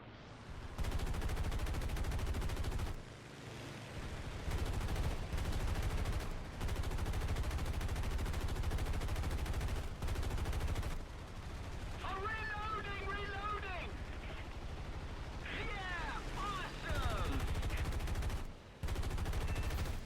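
Aircraft guns rattle in long, loud bursts during a War Thunder air battle, with engine drone beneath and short pauses between volleys, plus a few whistling tonal effects.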